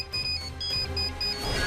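A phone ringtone for an incoming call sounds in a pulsing, repeating electronic pattern of short beeps at moderate volume, with a low background hum and no speech.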